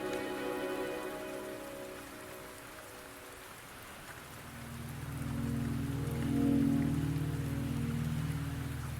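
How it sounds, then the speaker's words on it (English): Steady rain falls in the Wuthering Waves video game, a continuous hiss that grows louder and denser partway through, with a low rumbling wash underneath and no talking. "The rain is subsiding, and the sky will soon clear."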